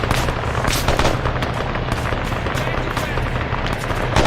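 Dense, rapid gunfire and explosions roar continuously in the Arma 3 Antistasi mode on Altis, loud and close with overlapping bursts filling the whole stretch.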